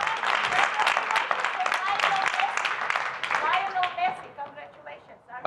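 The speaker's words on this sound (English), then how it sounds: "Ladies and gentlemen, a round of applause." Audience at an Asia Society program, the first public talk by the new HKEX CEO, applauds steadily in a dense burst of clapping that starts loud and tapers off toward the end.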